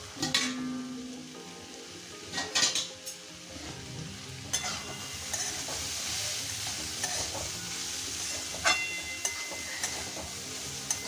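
Papaya fries in a pan with onion, giving a steady sizzle and frequent loud scraping stirs and clanks of a spatula against the metal, close by.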